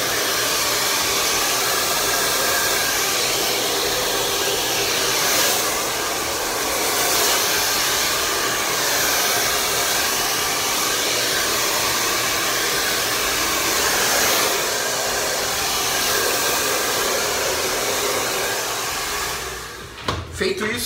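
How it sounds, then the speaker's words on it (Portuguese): A hair dryer blows steadily on its cold-shot setting, a loud, continuous rushing whir held close for about twenty seconds before a brief clatter as it is handled at the end. "Você vai ligar seu secador, vai apertar esse botão, vai verificar se já tá frio e joga aqui agora."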